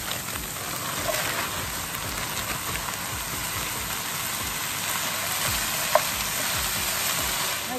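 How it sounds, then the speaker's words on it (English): A mixed trio of peppers fries in a pan, giving a steady, close crackling sizzle with scattered pops and light stirring throughout. "So now I'm going to put in my peppers"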